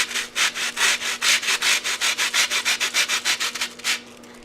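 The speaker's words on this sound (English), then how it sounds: "You're gonna take a cheese grater and you're gonna grate the bottom of the cookies" A cheese grater rasps lightly across the burnt bottoms of baked peanut butter cookies in a kitchen, giving about twenty quick, even scraping strokes in a steady back-and-forth rhythm, close and distinct, with a faint electrical hum beneath.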